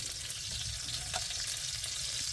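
Mini pumpkins dropped into a frying pan over medium-low heat make a constant, even hiss of frying that stays level throughout, with no voices.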